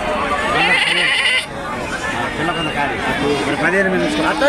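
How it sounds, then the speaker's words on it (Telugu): Male goats bleat repeatedly and loudly nearby at the Kunta goat market, several overlapping calls amid crowd chatter and people talking. "పెద్ద సైజు మేకపోతులు"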